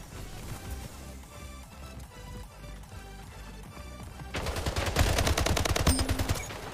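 Rapid video-game gunfire in a squad shooter match, bursts of shots rattling steadily before turning louder and denser near the end, with a quick rhythmic stream of reports.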